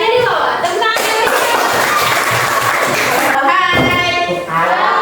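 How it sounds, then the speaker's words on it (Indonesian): Loud clapping from a school audience before a student performs, dense and close, broken up by voices talking over it near the start and end. "Tepuk tangan."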